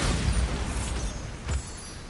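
A Bombarda blast spell from the Hogwarts Legacy game goes off as a sharp, booming burst, and a second thump follows about a second and a half later, both fairly loud and close with a rumbling tail.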